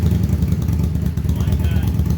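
Motorcycle engine running rough after its fuel pump starts, a loud close pulsing low-pitched chug with uneven rhythm, with people talking over it.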